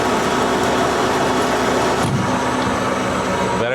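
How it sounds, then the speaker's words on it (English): A lathe motor, recently swapped for a USA-made unit, running at about 600 RPM, giving a loud, continuous mechanical hum and whir with a steady tone that holds throughout. "We're running at about 600 RPM. The lathe does a good job."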